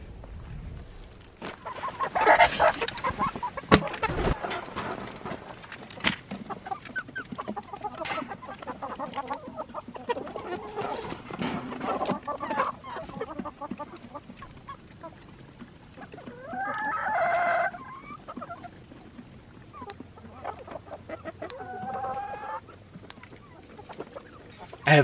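Backyard chickens cluck and crow from a nearby coop, with a rooster's call standing out among layered busy clucking and rustling, continuous and moderately loud, with no talk.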